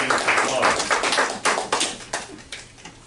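Audience applause in a radio play, dense and steady hand clapping from a crowd with a few louder swells, running alone for about three seconds.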